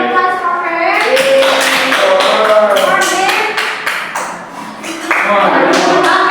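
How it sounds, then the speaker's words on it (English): A classroom of students claps for a classmate after her talk in an English listening lesson, a dense broadband patter of hands with voices and cheers mixed in, easing briefly near the end before picking up again. "That's a big applause for her."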